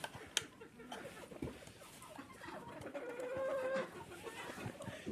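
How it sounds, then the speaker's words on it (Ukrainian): Chickens, including small black bantams and an older hen, in a henhouse at feeding time, giving soft clucks and coos at close range under low rustling, with a brief sharp knock near the start. "Ось уже курам дав їсти, вони будуть заходити в курник."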